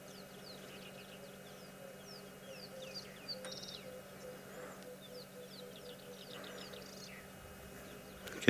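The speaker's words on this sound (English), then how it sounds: "You can hear a couple of emerald spotted wood doves there in the distance," Emerald spotted wood doves call faintly in the distance at sunset in the African bush, soft low cooing among scattered birdsong, chirps and a steady background hum.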